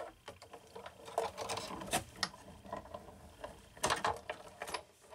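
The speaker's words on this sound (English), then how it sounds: "then run that through the Big Shot." A Big Shot die-cutting machine cranks cardstock through with stitched-shapes Framelits, giving close, quiet mechanical clicks and ratcheting grinds in uneven bursts, louder near the middle and end.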